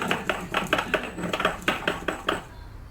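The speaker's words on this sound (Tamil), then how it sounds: "இதை வந்து நம்ம ஒரு இடிக்கிற கல்லில் மாற்றிட்டு நல்லா இடித்து பவுடர் பண்ணிக்கலாம்." Roasted spices for a mutton roast are pounded in a stone mortar, giving a close, steady run of about nine sharp knocking strikes before stopping.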